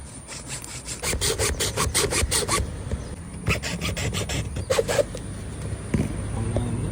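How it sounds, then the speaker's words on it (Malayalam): A used diesel filter is cut open with a blade, giving close, rasping sawing strokes in quick bursts with brief pauses and scraping rubs between, with no speech. "ഈ ഡീസൽ ഫിൽറ്ററിൻ്റെ ഉള്ളിലുള്ള അവസ്ഥ എന്താണ് അപ്പോൾ നമുക്കിതൊന്ന് മുറിച്ച് നോക്കാം"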